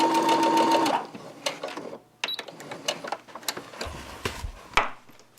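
A sewing machine stitches a pinned fabric seam: a steady, close motor whir runs for about a second and then stops, followed by light clicks and rustles of fabric being handled.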